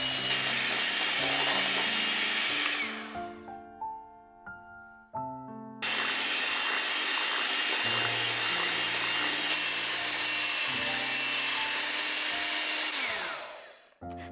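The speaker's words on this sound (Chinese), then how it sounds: "分2到3次倒入奶油，改成低速搅拌，直到出现明显的细纹。" An electric mixer whips cream at low speed for a carrot cake frosting, a steady close whirring that drops out for a moment early on, then runs on evenly for several seconds before stopping.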